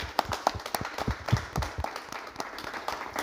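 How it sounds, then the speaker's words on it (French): People in a television studio applaud with scattered, distinct claps of uneven rhythm, moderately close and fairly light. "Vous pouvez vous applaudir."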